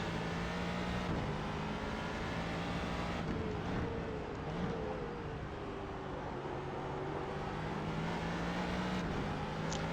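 A Ford GT2 race car in the iRacing simulator at Daytona drones steadily at speed, its engine note continuous and loud with slight pitch shifts through shifts and corners, no voices over it.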